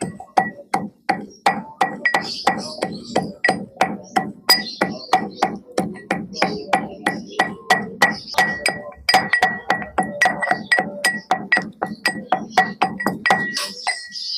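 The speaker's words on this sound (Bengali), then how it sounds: "আর কয়েকটা শুকনো লঙ্কা নিয়েছি, একটু হালকা করে থেতো করে নেব।" Dried red chillies lightly crushed in a kitchen, a long run of steady, evenly spaced knocking taps close by, continuing for the whole stretch with no talk.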